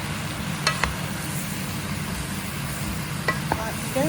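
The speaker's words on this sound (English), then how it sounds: "Stir one-handed." Onions sweat gently in a soup pan as a spoon stirs, a soft continuous hiss with a few faint scraping clinks against the metal, quiet and close.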